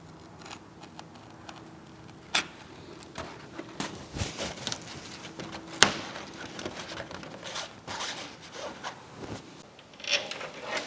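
A fresh blade slices through fabric on a Kitfox STi fuselage in a quiet workshop, giving soft scraping and tearing strokes with a few sharp ticks, close up and without talk.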